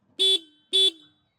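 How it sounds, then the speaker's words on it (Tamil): A TVS iQube S electric scooter horn sounds two short, bright, identical beeps in quick succession, close and loud, with silence between them. "ஹார்ன் சவுண்டுமே பார்க்கலாம்"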